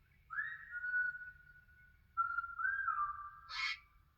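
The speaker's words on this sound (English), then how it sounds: "the birds singing their hearts out. Try whistling along with them." A person whistles long, sliding, clear notes in two phrases, with a short bright chirp near the end like birdsong joining in. The setting is quiet, with no talking.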